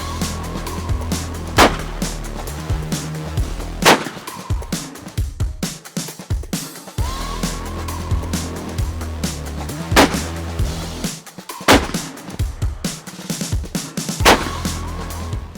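Sühlberg over-and-under shotgun fired while hunting woodcock outdoors, several sharp loud reports spaced a few seconds apart over a background of engine-like rumble.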